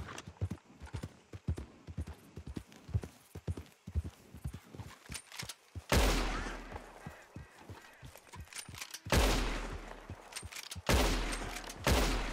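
Gunshots ring out while hunting a deer in the Red Dead Redemption 2 video game: three loud, sharp blasts with lingering tails, following a stretch of steady horse hoofbeats clip-clopping along.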